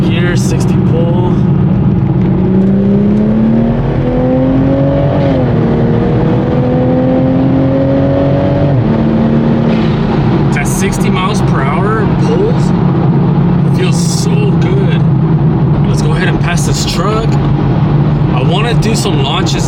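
A Toyota Supra MKV with a drag pack setup pulls hard in fourth gear from about 60, its loud engine note climbing steadily before dropping and droning on from inside the car, with people talking over it.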